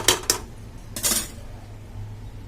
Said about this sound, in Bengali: দু মিনিটের জন্য আমি ঢাকা দিয়ে দিলাম